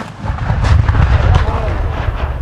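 Muffled cannon blasts at a Civil War reenactment during Nappanee Blue and Gray Days, rumbling heavily against a dense crowd din with voices talking throughout.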